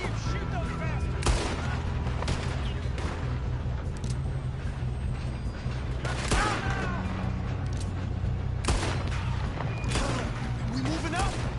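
Gunfire in Red Dead Redemption 2 during a gang shootout, sharp shots and booming blasts cracking out repeatedly at irregular intervals over a dense rumbling battle bed, with voices shouting amid the fight.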